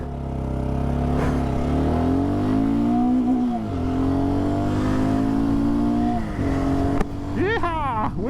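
A BSA Gold Star motorcycle revs hard under a heavy rider, its engine note climbing steadily, dropping briefly at a gear change, then rising again, loud and close throughout with a pitch-sweeping whine near the end.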